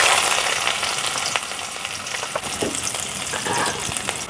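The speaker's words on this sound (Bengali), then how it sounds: "এবার এর মধ্যে পেঁয়াজ কুচি দিয়ে দিচ্ছি।" Chopped onion hits hot mustard oil with cardamom in the pan, giving a loud, close, continuous sizzle with crackling pops throughout, no voices.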